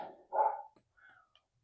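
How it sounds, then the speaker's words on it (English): A pet dog barks at home, one sharp, loud nearby bark, then a fainter, shorter yip after a brief pause. "I don't know if you can hear my dog, but he's being spicy today."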